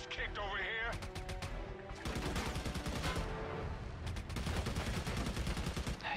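Rapid bursts of gunfire from the Army of Two video game, set in Al Faw, Iraq, crackle continuously through the clip over a dense battle soundscape, with a brief pause near the two-second mark before the shooting resumes.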